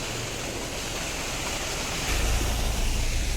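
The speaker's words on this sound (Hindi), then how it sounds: "झरना क्या है, ये बारिश का पानी उतर रहा है जिसने झरने का रूप ले लिया है।" A waterfall formed by monsoon rainwater in the hills of Uttarakhand pours with a steady broadband rush that swells louder partway through, with no voices heard.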